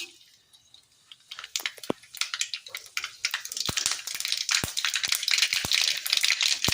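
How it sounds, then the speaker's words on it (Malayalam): Mustard seeds popping in hot oil in a small Kerala frying pan, sharp dry crackles starting sparse and quickening into a dense, close run of snaps and spits. "കടുക് പൊട്ടി വരുമ്പോൾ ഇതിലേക്ക് വെളുത്തുള്ളി ഇട്ട് കൊടുക്കാം"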